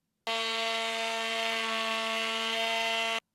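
A wood router spinning a large 1/2 inch bit after a mishap gives off a loud, steady, harsh whine with a strong ringing tone, starting and stopping abruptly over about three seconds.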